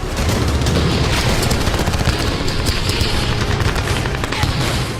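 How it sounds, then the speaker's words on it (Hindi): Gunfire aimed at a Ukrainian naval drone in the Black Sea forms a dense, continuous crackling barrage that stays loud for the whole stretch, with no distinct separate blast standing out. "यूक्रेन का पहला यूएसवी धमाका हुआ और उसके बाद रूस ने यूएसवी पर फायरिंग शुरू कर दी।"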